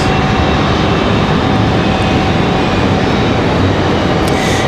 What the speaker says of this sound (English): Got an A319 ready to go for American Airlines.